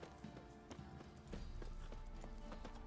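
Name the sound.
horse Roach galloping, from The Witcher 3 video game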